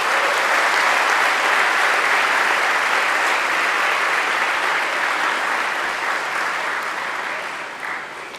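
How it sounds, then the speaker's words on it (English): Audience at a St. Xavier's College graduation ceremony applauding the faculty, dense sustained clapping from a large crowd that holds steady and then gradually fades toward the end. "Can we have a round of applause for the entire faculty of St. Xavier's College?"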